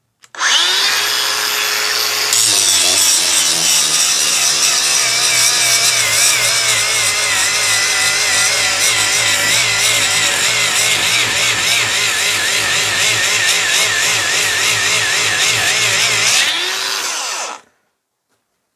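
Makita brushless angle grinder on full power cutting under heavy pressure, spinning up with a rising whine into a loud, sustained grinding screech with a wavering tone, then switching off and winding down at the end.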